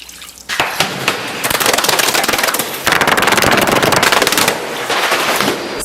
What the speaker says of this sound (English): Add approximately 4 coffee cups of water to the kettle.